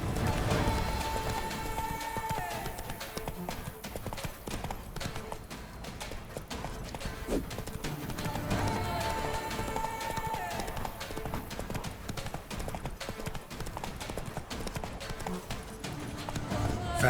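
Horse Roach gallops in The Witcher 3, hoofbeats drumming in a steady clip-clop rhythm over game music, with someone talking throughout.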